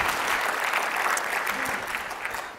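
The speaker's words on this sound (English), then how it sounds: "Round of applause for them." Audience applause at an application security conference, a dense, steady patter of many hands clapping that tapers slightly toward the end.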